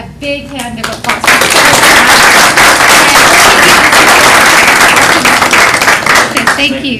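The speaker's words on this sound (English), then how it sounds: "let's give Jade a big hand of applause" Audience at a school board of education meeting applauds for Jade, a loud, sustained burst of clapping that swells quickly and holds steady for several seconds before tapering.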